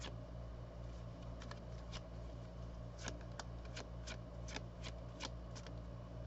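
A deck of tarot cards is shuffled close by in a quiet room, with crisp riffling flicks and soft card slaps repeating in quick irregular bursts over a low steady hum, and no voices.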